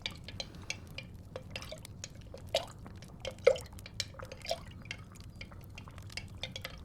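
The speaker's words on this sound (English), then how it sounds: "So we're going to give this a bit more of a stir before we do the smell test." Liquid potion being stirred: quiet, close wet clicks and small drips in an irregular rhythm over a faint low background, no voices.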